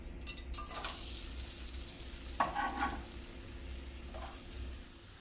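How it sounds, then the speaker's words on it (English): Onion sizzles in hot ghee and coconut oil in a pan, a soft steady frying hiss with occasional stirring scrapes and crackles, close but fairly faint. "Now that our oil is nice and hot,"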